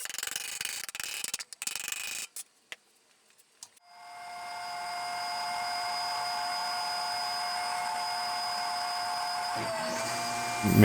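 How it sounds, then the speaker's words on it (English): Power drill pre-drilling holes in a wooden box joint jig: a few short clicks and knocks, a pause, then the motor spins up and holds a steady high whine for several seconds before winding down. "I'm pre-drilling some holes"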